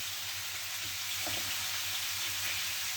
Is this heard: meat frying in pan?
yes